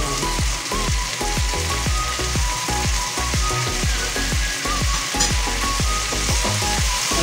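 Fresh tuna sizzles loudly in a frying pan for tofu sisig, a steady dense crackle with rhythmic scraping and stirring strokes repeating close by.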